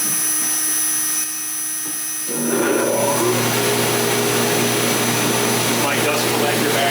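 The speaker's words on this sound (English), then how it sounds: "So let me start the vacuum." Workshop vacuum in a woodworking shop during a CNC guitar build, switched on after a quiet moment with faint talk, then spinning up into a loud, steady whining roar that fills the rest.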